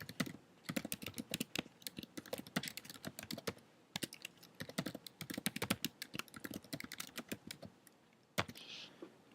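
Rapid, steady typing on a computer keyboard as user details are entered into a form, with dense bursts of close keystrokes and brief pauses between fields, no talking.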